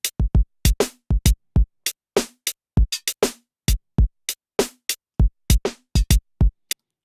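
Quantized MIDI drum beat playing steady sixteenth-note patterns, punchy kicks and snares with crisp hits and a touch of reverb tail, evenly spaced and mechanically tight, heard alone without talk.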